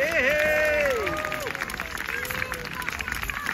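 Crowd at a Wars of the Roses battle re-enactment of St Albans 1455, cheering and clapping on an open field, with a loud whistle-like call and shouts at the start, then a sustained cheer that gradually settles.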